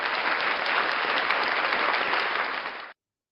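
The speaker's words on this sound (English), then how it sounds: "Ladies and gentlemen, a round of applause for Uncle Artie." A crowd claps and cheers in a dense, loud burst of applause for a guest, sustained evenly for nearly three seconds before cutting off abruptly into silence.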